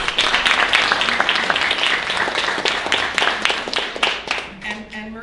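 An audience gives a round of applause at a grant announcement, with close, crisp clapping over a steady wash of hands that tapers off near the end as a voice begins.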